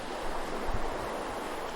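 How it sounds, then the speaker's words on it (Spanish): A broadband rush of waves and wind with rain in the background, a steady noisy wash with a brief low thump near the middle. "Su grito de dolor vino acompañado de olas, viento y más lluvia."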